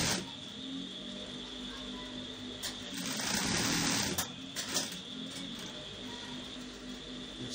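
Sewing machine stitching down embroidery on brocade fabric for an agbada, a steady mechanical whir running throughout that swells louder for a second or two midway, close and moderately quiet.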